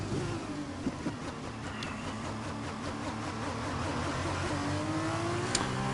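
Formula 2 race cars circle the Bahrain circuit at reduced pace behind the safety car, a steady engine drone with rising and falling whine as the queue passes, close and continuous with no talk.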